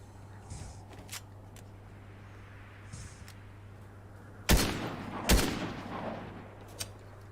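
Gunfire in the Fortnite video game: two loud, sharp shot bursts close together midway, with fainter clicks and game noise around them.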